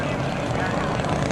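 Radio-controlled P-47 model airplane on final approach with full flaps, its propeller engine buzzing steadily and loud in a brief burst outdoors, with a voice talking over it.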